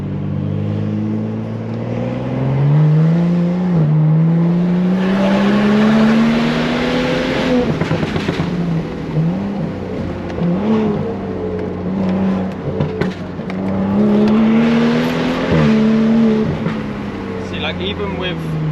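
A Stage 2+ tuned BMW M235i in Sport Plus mode with traction control off, its engine droning and rising through revs at close range while the driver talks over it.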